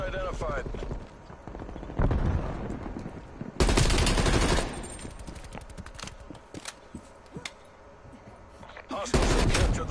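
Gunfire in Call of Duty Cold War, loud bursts of shots at close range breaking through the game's noise, with heavy blasts around a few moments and a player talking in between.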